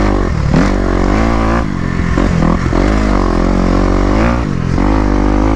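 A Kawasaki KX250 dirt bike engine revs loud and close, a steady buzzing roar that rises and dips with throttle blips, carrying a faint rattle underneath.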